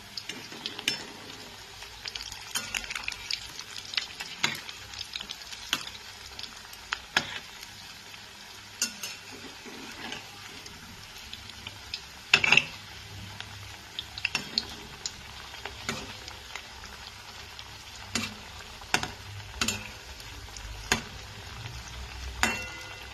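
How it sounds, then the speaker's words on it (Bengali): Soft, steady sizzle of coconut fritters frying in oil, punctuated by scattered clicks and scrapes of a utensil stirring and turning them. "এরকমভাবে আমি ভেজে নিচ্ছি বড়াগুলোকে"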